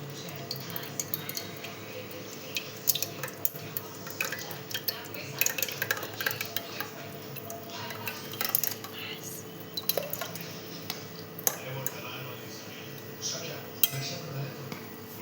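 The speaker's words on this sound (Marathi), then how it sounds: "इथे आपण एक डबा घेतलेला आहे, त्यात आपण दही काढून घेऊया आधी." Yogurt is scooped from a container into another container in a kitchen while making rose lassi, with scattered soft spoon scrapes and light clinks of utensils against the container.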